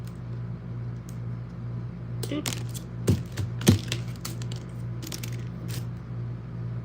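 Thin wire snipped with ordinary household scissors, a few sharp close clicks and snaps in quick succession over a low steady hum, with no talk.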